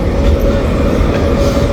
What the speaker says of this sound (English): just where that tram's coming from